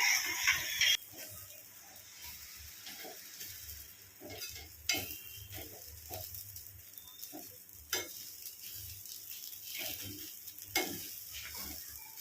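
Wheat rava upma being stirred and mixed in a pan, with intermittent scraping and clinks of a spoon against metal over a faint sizzle, close and moderately quiet.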